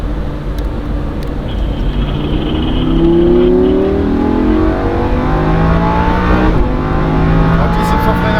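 A Lamborghini Huracan accelerates hard around the Le Mans Maison Blanche circuit, its engine note climbing through the gears in rising sweeps, loud and close, with a brief shift dip before the revs build again.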